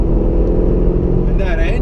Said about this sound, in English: And that engine, the exhaust too.